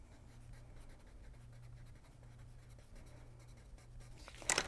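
A colored pencil writes a short sentence on paper, a soft continuous scratching close by with steady strokes, ending in a few brisker, louder scrapes.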